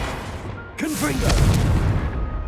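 A Confringo fire spell from Hogwarts Legacy bursts with a sudden deep boom that rolls into a sustained rumble, as a voice speaks just before the blast.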